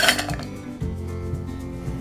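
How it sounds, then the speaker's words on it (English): Ice goes into a cocktail shaker with a bright rattling clatter at first, then a couple of heavier clunks as the cubes settle against the metal. "here's our shaker, and we'll add some ice to that as well"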